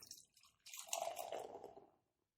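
Short Fuse beer being poured into a glass, a brief, quiet splashing and gurgling of liquid lasting about a second and a half, heard alone before falling silent.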